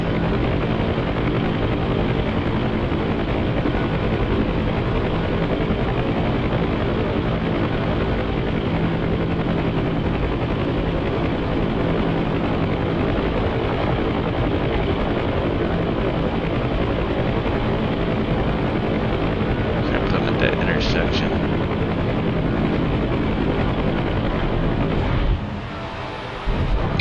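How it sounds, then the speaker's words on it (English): A helicopter in the DCS flight simulator roars loudly and steadily as it flies and sets down, with a brief radio voice partway through and the engine noise cutting near the end. "So the helicopter landed perfectly fine."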